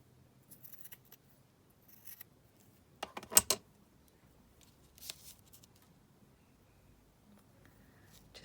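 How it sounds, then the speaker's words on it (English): Scissors snip a sticker shape for paper ephemera, a few quiet, close cuts with a louder burst of snipping in the middle, alone in a quiet room. "Just going to cut that sort of weird shape off."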